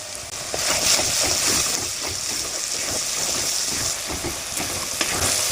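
Steady, loud sizzling of chicken frying in a hot pan with tomatoes, salt and turmeric, a dense crackling hiss that continues without pause.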